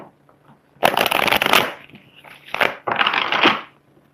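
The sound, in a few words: tarot cards being shuffled and drawn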